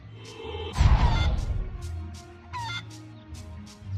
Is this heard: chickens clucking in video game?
yes